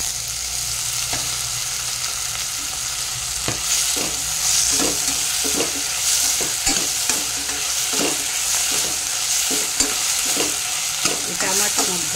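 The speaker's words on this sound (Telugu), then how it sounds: "ఇప్పుడు ఇందులోనే టమాటా వేసేద్దాం" Tomatoes go into a hot pan for kakarakaya pulusu and sizzle steadily, with repeated scraping and stirring strokes from a spoon cutting through the constant frying hiss; no voices.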